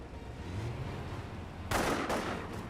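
Gunfire crackles in a Company of Heroes battle, a low rumbling barrage followed by a sharper, louder burst of shots, distant and continuous.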